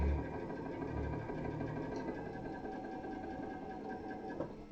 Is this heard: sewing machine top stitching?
yes